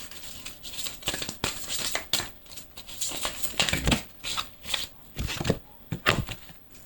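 Oracle cards shuffled by hand, a run of quick, close, crisp riffling and slapping bursts in irregular rhythm with no talking.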